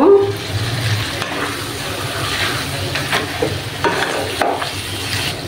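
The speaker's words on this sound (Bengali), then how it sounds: "এবার আমি মাছের মাথাগুলো দিয়ে দেব।" Fish heads going into a hot pan of fried potatoes for a fish-head and cabbage curry, a loud, close, continuous sizzle with stirring scrapes and occasional pops, with no talk.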